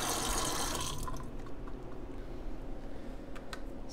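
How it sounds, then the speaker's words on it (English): Hot water pours from a tap into a soap dispenser bottle, a loud rushing fill for the first second, then it stops and quieter drips and small clinks follow. "Now I'm only gonna fill it up to about here with hot water to shake it up"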